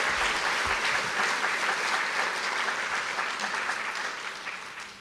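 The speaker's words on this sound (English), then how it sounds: "let's give a round of applause for all the scholarships as well" A crowd claps in sustained, loud applause for scholarship recipients at a college foundation awards celebration, a dense wash of hands that continues evenly before fading a little at the close.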